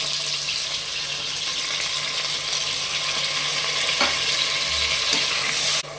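Onion, ginger garlic paste, green chili and mint fry for chicken biryani, giving an even, close sizzle throughout with a couple of light utensil taps near the end.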